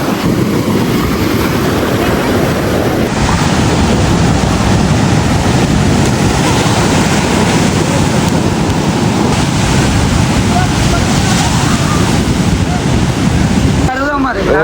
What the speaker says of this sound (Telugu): బీచ్ వచ్చేసింది, చాలా పెద్దగా వస్తున్నాయి అలలు.